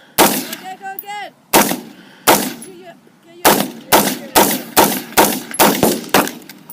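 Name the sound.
AR-15 rifle gunshots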